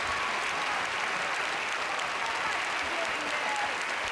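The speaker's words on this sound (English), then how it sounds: "Let's give them a big round of applause." An audience at a presidential debate applauds the Democratic candidates with dense, sustained clapping that stays steady and fairly faint throughout, with no talk over it.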